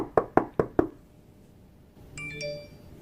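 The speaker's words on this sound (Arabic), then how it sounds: "يقول لك دور نوك او نقر على الباب" Four sharp, evenly spaced knocks on a door sound close and loud, followed after a pause by a short electronic chime from an iPhone sound-recognition alert.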